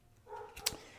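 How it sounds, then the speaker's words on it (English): A household dog gives a single short bark close by, one sharp burst after a faint quiet lead-in. "Dogs."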